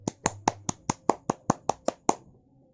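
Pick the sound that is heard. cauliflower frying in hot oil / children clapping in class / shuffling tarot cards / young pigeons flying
children clapping in class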